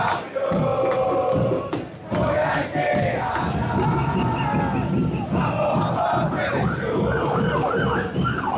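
A large crowd of football fans in a street caravan, loud and close, with chanting, shouting and cheering that runs without pause, plus horns or siren-like tones sounding above it.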